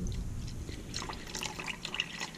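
Water for home soap making is poured carefully into a container, giving a close, continuous stream of trickles and drips with a running liquid wash throughout.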